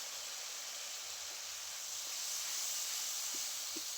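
Water poured into a hot pan of fish curry with katla fish head, potatoes and greens, giving a steady broad sizzling hiss that swells slightly toward the end, with a few faint clicks and no speech.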